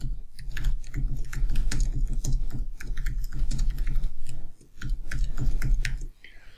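Brisk typing on a computer keyboard while writing a small C++ program, close and steady clicking keystrokes with a low background hum and a short pause near the end.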